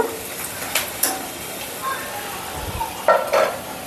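Chili powder stirred in hot oil in a pan for tempered rice, a soft sizzle with a few scrapes and clinks of the spoon against the pan.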